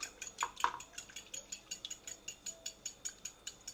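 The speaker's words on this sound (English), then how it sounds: "Then I continue mixing." Rapid, rhythmic clinking of a utensil whisking milk into French toast batter in a bowl, a steady run of close, light taps with no talking.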